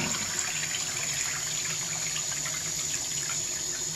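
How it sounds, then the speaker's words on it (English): Water surges back and forth in a clogged bathroom sink pipe with an accordion P-trap, a continuous rushing, gurgling wash that holds steady and fairly close throughout. "you can really force the water down, up and down the pipe"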